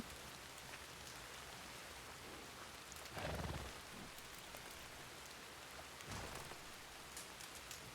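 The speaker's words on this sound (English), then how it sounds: "I love that sound when the little rain droplets hit the, like, when they hit the flame and you hear that shh, shh, shh." Rain falls steadily in the western roleplay game WildRP, a constant broad hiss of droplets with two brief, louder rumbling swells, no voices present.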